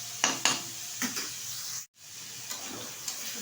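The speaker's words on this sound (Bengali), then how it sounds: "তো ভালোভাবে ভেজে নিচ্ছি" Bitter gourd (uchhe) fries in a pan with a steady high hiss, while a few clinks of a spatula stirring against the pan break through the sizzle.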